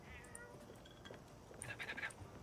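A cat meows in Hello Neighbor 2, a couple of faint, thin meows early and a brighter, more insistent cry near the end, all quiet and alone.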